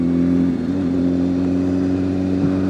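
Steady, loud engine drone from a BMW S1000RR motorcycle under way, holding an even pitch with strong low harmonics throughout, without talk.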